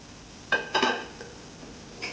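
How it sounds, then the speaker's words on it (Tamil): Strips of capsicum are sautéed in a pan for chicken fried rice, heard as a few quick metallic clanks of a utensil against the pan in close succession, then quiet, with one more light knock at the end. "அதை அப்படியே கொஞ்சம் வதக்கிடுது"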